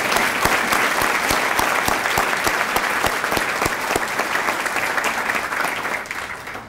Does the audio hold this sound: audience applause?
yes